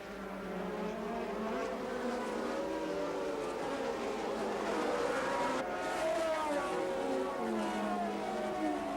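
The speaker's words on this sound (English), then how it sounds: "As the Renaults got away, Pironi's Ferrari was right up behind them" Formula 1 Renault and Ferrari race cars from 1982 at Zandvoort, with high-revving engines whining steadily and overlapping as the cars pass, loud and continuous throughout with shifting pitch and no talk.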